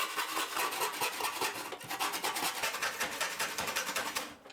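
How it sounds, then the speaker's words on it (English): A handsaw cuts through a large poplar board in rapid, steady back-and-forth strokes, loud and close, with rasping scrapes continuing evenly until the cut ends. "I cut 6 11-inch pieces from the large board I bought using a handsaw"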